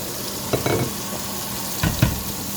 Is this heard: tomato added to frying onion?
yes